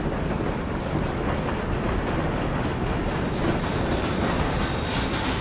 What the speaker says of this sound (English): now I'm on a free rolling train!